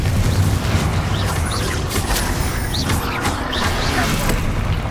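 Confringo explosion spells cast in Hogwarts Legacy, loud booming blasts amid dense combat noise and magical effects, with brief vocal exclamations between them.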